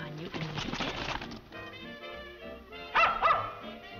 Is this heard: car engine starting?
no